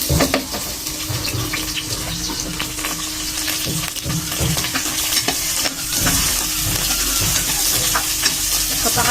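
Garlic and onion fry in cooking oil for pork adobo, a steady loud sizzle with stirring scrapes running throughout.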